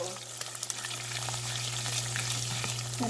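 Onion and garlic fry in a pan for a garlic curry, giving a close, continuous crackling sizzle with scattered pops over a low steady hum.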